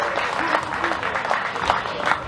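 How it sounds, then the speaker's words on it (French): An audience at a formal gathering of an association in Matadi applauds after a speech, with dense clapping and crowd noise mixed with voices throughout the short burst. "applaudissons encore très fort pour notre ami"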